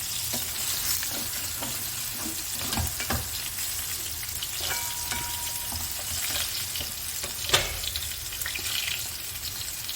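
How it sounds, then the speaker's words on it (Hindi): Brinjal pieces sizzle and crackle in hot oil in a pan, a continuous close frying hiss with occasional sharp pops and spatters, no talking. "अब मैं ज़रा फ्राई कर लूँ ना, फिर आपको दिखाती हूँ।"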